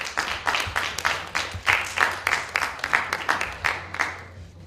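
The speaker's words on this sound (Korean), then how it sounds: "큰 박수로 맞이해 주시기 바랍니다" Audience applause welcoming a lecturer at an information security festival, a burst of steady clapping from a seated crowd lasting several seconds and slowly tapering off.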